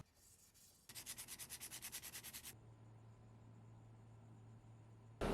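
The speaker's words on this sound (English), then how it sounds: "I used some 220 grit sandpaper and some Scotch-Brite pads to clean up all the tarnished sections" 220 grit sandpaper rubbing a tarnished trumpet lead pipe in quick, even back-and-forth strokes, close and distinct, then stopping and leaving a low steady hum before a sudden noise at the end.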